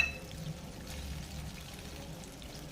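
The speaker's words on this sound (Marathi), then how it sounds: "उकळी आलेल्या पाण्यामध्ये आता टाकून घेतलेला आहे" Grated jaggery tipped into a pot of boiling water gives a soft, steady pouring trickle, quiet and close, lasting a few seconds with no talking.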